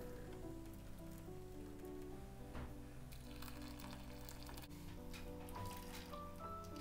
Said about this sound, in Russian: И заливаю все половиной литра воды, точнее кипятка.